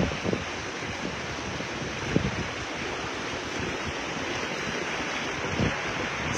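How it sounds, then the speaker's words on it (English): Flash flood water surges down a Las Vegas road, a loud, constant roaring rush with occasional low thumps that may be rocks tumbling along, heard alone without voices. "You can hear the rocks tumbling down the road."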